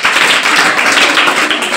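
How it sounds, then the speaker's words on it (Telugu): Audience at a school science day celebration clapping loudly, a dense, steady wash of many hands close by lasting the whole moment with no voices over it. "ఇక్కడ వచ్చిన వాళ్ళందరి కోసం గట్టిగా చప్పట్లు కొట్టండి"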